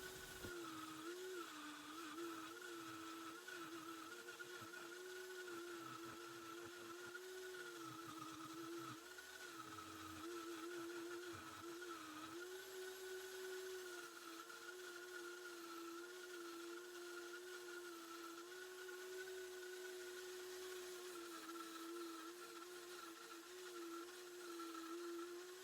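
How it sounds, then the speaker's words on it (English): A wood lathe spins a garden dibber handle while a parting tool and spindle gouge cut into it, making a loud, steady motor whine with a constant pitch and rough scraping undertones throughout. "I'm using the parting tool to mark the end of my handle and start cutting it free from the lathe, and using the spindle gouge to round off those ends"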